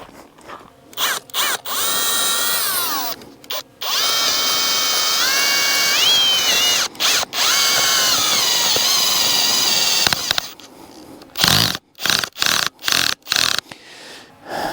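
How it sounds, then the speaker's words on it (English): A power screwdriver drives a screw-type tent stake into the ground in long, loud whining bursts with changing pitch, broken by short pauses and ending in several quick stop-start pulses of the motor. "I think my screwdriver is not strong enough"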